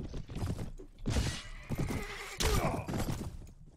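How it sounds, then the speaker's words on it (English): Horses in the Mount and Blade video game, a loud nearby neigh followed by a second whinny, with clip-clopping hooves underneath throughout, no speech. "Man, that poor horse and carriage."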